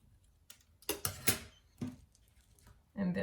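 Scissors snipping out eye shapes from material for a sock craft: a few short, close crisp cuts spaced irregularly, with quiet handling noise between them.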